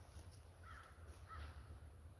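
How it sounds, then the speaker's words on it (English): Two faint crow caws, a short pause between them, ring out from a distance over a low, steady rumble of wind outdoors. "Oh, 2 crows."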